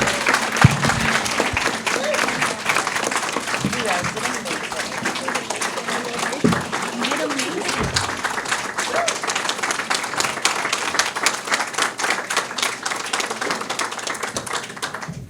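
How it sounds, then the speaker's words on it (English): Audience applause for young people who shared their stories at a community event on youth homelessness in Nevada County, a steady wash of clapping lasting throughout, with taps and some voices mixed in under it. "let's give a big round of applause for them"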